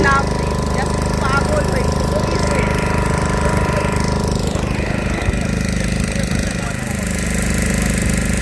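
A trawler boat's motor runs steadily throughout, a loud, continuous low-pitched chugging drone close by, with faint talk underneath.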